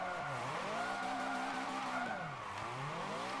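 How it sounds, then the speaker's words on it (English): Tyres squeal steadily as a Lamborghini drifts in Forza Motorsport 7, the engine note sweeping up and down beneath a continuous loud screech with no talking. "There we go. A nice little drift."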